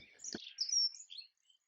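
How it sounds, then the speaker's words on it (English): A few quick, high chirps from small birds such as sparrows, a chaffinch and a wren at a local nature reserve. They come as a brief faint burst, followed by near silence. "There's lots of birdsong, lots of sparrows, chaffinch, wren."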